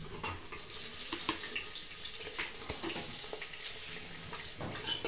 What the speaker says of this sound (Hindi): अब इसमें डाल देती हूँ मैं ये हरी मिर्च।